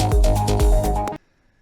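Dark progressive techno bass stabs from the Serum synth in an Afterlife-style pattern, a few heavy, booming hits in a short rhythmic figure that cuts off abruptly into silence.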